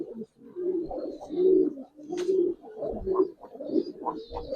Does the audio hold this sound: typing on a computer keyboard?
no